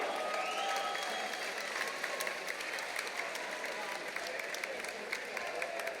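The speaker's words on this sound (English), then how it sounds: "round of applause for these two warriors this evening" A crowd at an MMA event applauds and cheers for two fighters after a middleweight title fight, a steady wash of clapping and crowd noise lasting the whole clip, with an announcer speaking over it.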